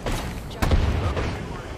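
A single explosion goes off in the video game Apex Legends during a competitive match, a sudden muffled boom in the middle of the clip under steady commentary.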